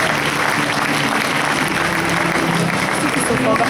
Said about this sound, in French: Je pense qu'on peut les applaudir déjà très très fort.